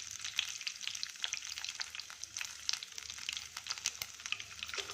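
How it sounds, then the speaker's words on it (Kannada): Cumin, fenugreek, curry leaves and a dry chilli crackling in hot oil for a wheat sweet pongal tempering, a dense bright continuous spatter of pops close by with no talk. "ಜೀರಿಗೆ, ಮೆಂತ್ಯ, ಕರಿಬೇವು, 1 ಒಣಮೆಣಸಿನ್ಕಾಯಿ ಹಾಕ್ತಾಯಿದ್ದೀನಿ. ಇದೆಲ್ಲ ಸ್ವಲ್ಪ ಚಟಪಟ ಅಂತ ಸಿಡಿಲಿ."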